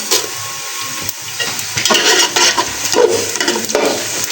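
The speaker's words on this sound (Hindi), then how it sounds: "अब मैं कुछ गरम मसाले की चीज़ें डाल रही हूँ" Whole spices such as black pepper, cinnamon, cumin and green and black cardamom tip into onions frying in a pot for chana pulao. A steady close sizzle runs under soft stirring and utensil clinks, and no one speaks.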